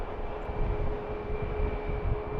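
An airplane departing BWI airport, a steady broad engine roar with a constant tonal hum, fairly loud and continuous with no talk.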